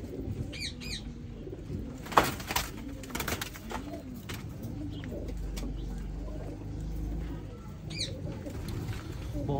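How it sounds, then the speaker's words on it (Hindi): Pigeons coo softly in repeated low rounded calls, with a few chirps and rustles around them, fairly faint and close. "अली वाला कबूतर"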